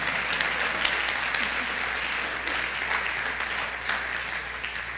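A church congregation at a Sunday service applauds, producing a full, continuous wash of clapping at steady strength from start to finish, with a low hum running underneath.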